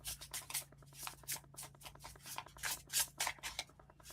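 Tarot cards riffled and slid off a deck in quick, repeated bursts of papery flicking and rubbing, fairly close and steady throughout, with no one speaking.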